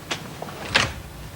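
A door opens during a 1981 television play of Graham Greene's The Potting Shed, with a soft click followed by a brief, brighter rattling swing of the door, all heard close and without speech.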